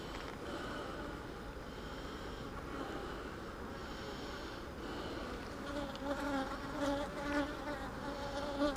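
Honeybees buzzing steadily over a hive frame full of capped brood, a dense, continuous, fairly faint drone with slight swells in pitch toward the end.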